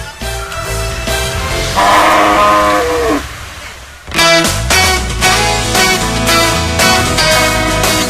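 Several loud, drawn-out cow moos close by, one after another with a brief pause between them.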